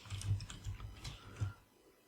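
Quiet, close typing on a computer keyboard, a short irregular burst of soft key clicks lasting about two seconds.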